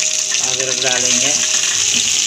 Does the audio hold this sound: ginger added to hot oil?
yes